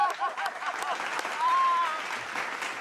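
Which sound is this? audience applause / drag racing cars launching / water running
audience applause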